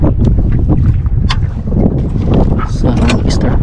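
A fishing boat engine runs on the water, a loud, rough low rumble mixed with wind buffeting and splashing, with voices partly audible.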